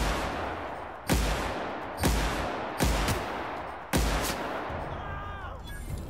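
Gunfire rings out in The Outer Worlds, four loud, evenly spaced shots with ringing tails, each close and punchy, followed by fainter in-game sounds at the end.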